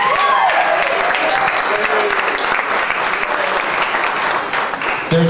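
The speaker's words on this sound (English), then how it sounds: "I think they deserve a round of applause before they even come in the room" Wedding guests break into loud, sustained applause across a crowded room, dense clapping with a few voices and cheers mixed in, steady throughout.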